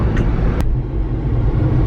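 Steady low road rumble from inside a car cruising through a wealthy residential neighborhood, loud and continuous with a couple of brief clicks, no talking.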